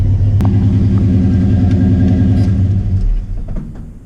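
Engine of a 1985 Chevy square body pickup revving up, a loud close rumbling throb that holds steady for about three seconds before dropping back to idle.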